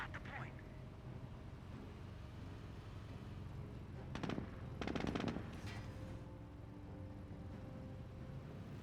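Short machine gun bursts in Company of Heroes 1, two quick rattling volleys at moderate distance over a constant low battlefield rumble.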